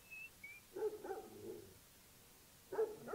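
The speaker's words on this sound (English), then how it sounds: "Oh, that's just the dog. He's barking at something." A dog gives a few short barks and yips, with a brief pause between bursts; faint, high whistle-like tones are heard at the start.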